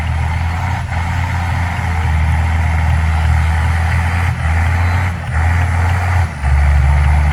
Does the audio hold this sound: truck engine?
yes